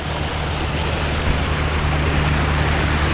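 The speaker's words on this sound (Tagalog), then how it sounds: "isang bangka yung dumaan" A fishing boat passes on floodwater, giving a steady low engine drone under a constant rush of moving water, close and even in level throughout.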